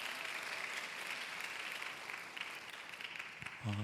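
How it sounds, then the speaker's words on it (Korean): A young adults' Sunday worship congregation claps in blessing after a prayer, a soft, steady spread of applause that thins near the end as a voice begins. "다시 한번 축복의 박수로 함께 하겠습니다."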